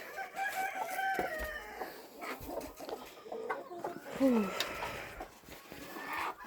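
Hens and chicks on a Ukrainian farmyard brood, with a rooster crowing and soft clucking and peeping scattered throughout, fairly close, while a person talks intermittently.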